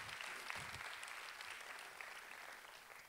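Applause from a festival audience at an opening ceremony, a steady dense wash of clapping that carries on evenly throughout, with no voices over it.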